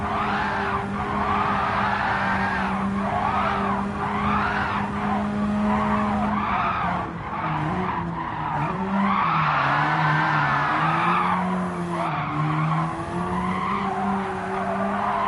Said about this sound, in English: All you do is just flick the car in, counter steer, catch it, give it throttle.